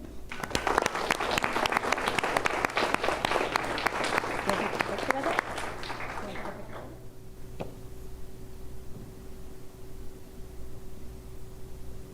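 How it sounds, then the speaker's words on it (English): A crowd claps loudly and steadily for several seconds, then the applause fades out into a quiet room hum. "give Team Pancakes a gigantic round of applause"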